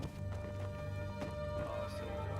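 A horse's hooves clop in a quick rhythm in Skyrim near Whiterun, moderately loud, with game ambience and a faint voice.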